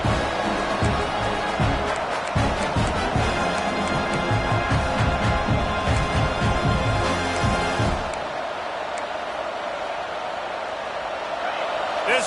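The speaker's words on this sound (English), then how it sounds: "how nice is it to have the home crowd going absolutely bananas?" A home stadium crowd roars loudly in a Madden football video game, a dense continuous roar with rhythmic stomping pulses. After about eight seconds it drops to a thinner, softer wash of noise.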